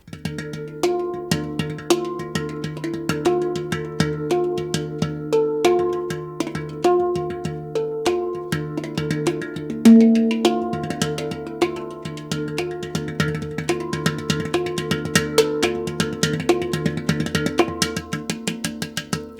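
A hang drum plays a flowing melody of ringing, bell-like tones, struck steadily and close, with notes overlapping and sustaining.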